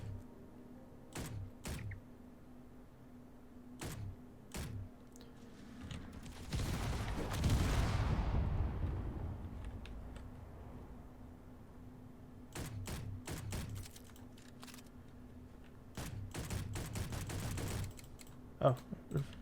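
Weapon fire in Space Engineers, a burst of sharp repeated shots near the middle followed by scattered clicks and short bursts, with a steady hum underneath.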